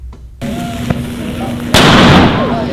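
A small piece of potassium bursts in water during a school chemistry experiment near campus science buildings, giving a sharp pop followed by a loud, sustained fizzing hiss, with a quieter crackle earlier and faint voices in the background.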